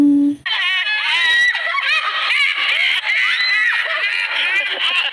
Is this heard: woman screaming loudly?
yes